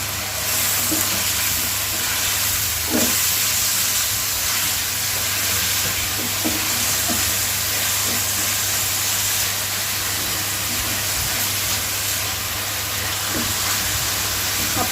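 Garlic and green chillies fry in a pan for a village-style Bangladeshi eggplant curry, giving a continuous sizzle with occasional soft clinks of stirring and a low steady background hum.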